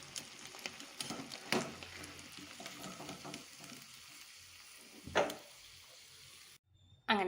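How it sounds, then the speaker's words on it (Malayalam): Shrimp frying in hot oil, a crackling sizzle with bursts of louder spatter and utensil scrapes as the pieces are turned, easing off before a brief pause and a final clatter. "നമുക്ക് ഈ ചെമ്മീനിന് മറിച്ചിടാം"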